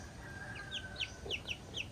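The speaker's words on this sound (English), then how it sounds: "This is definitely a little silky chicken, I think." A young, hand-sized silkie chick gives a quick series of soft, high peeps and clucks, close but faint against a quiet background.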